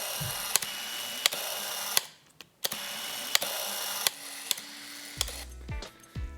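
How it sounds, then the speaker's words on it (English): Autofocus motor of a Nikon 300mm f/4 AF ED lens driving focus back and forth, a series of short mechanical whirs and clicks at close range with brief pauses between them, no talking. "right now I want you guys to hear the sound the focus motor makes"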